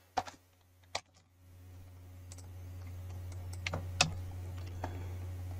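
A few scattered computer keyboard clicks and key presses, sparse and fairly close, over a steady low electrical hum while YAML is copied and pasted in a Home Assistant setup.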